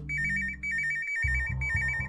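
Phone ringing in the horror game Traum, set in an empty hospital hallway: a steady electronic ringtone repeating in short trilling bursts, loud and close, with a low hum and a soft thud partway through, no talk.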